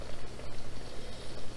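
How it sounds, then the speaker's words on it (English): A facial steamer heating distilled water gives a close, steady bubbling and hissing. The sound pulses lightly and evenly throughout. "It's just distilled water, steaming our face, to open our pores"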